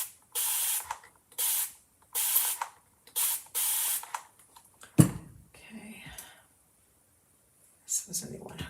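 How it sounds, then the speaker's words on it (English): Repeated short bursts of a spray bottle misting water onto chalk paint to make a color wash, about five close, loud spritzes in a rhythmic series, followed by quieter handling sounds and faint speech. "And then we're gonna spray it down."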